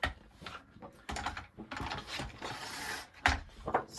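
A paper trimmer slices scrapbook paper at close range, a few short sliding scrapes and clicks of the blade carriage in quick irregular strokes, fairly quiet.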